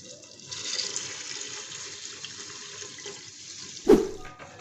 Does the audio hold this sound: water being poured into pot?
yes